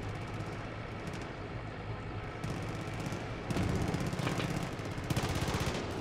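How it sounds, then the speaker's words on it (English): Enemy gunfire in Far Cry 5, sustained bursts of rapid automatic shots over a rumbling background, growing louder and denser toward the end, with no talk. "Oh, they're just shooting."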